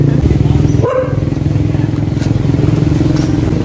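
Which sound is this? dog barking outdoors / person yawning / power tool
dog barking outdoors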